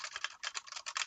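Rapid clicking of a computer keyboard, a quick run of bright key taps in uneven bursts, close and alone with no talking.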